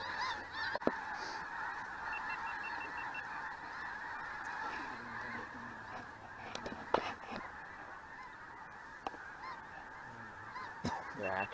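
A feeding flock of geese honks almost without a break, many overlapping calls rising and falling at moderate distance, with a few louder honks standing out in an open field in Kansas.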